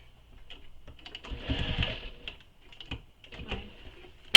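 A sewing machine top stitches along the edge of a tote bag in short, quiet bursts of rapid needle clatter separated by pauses, close by with no talk.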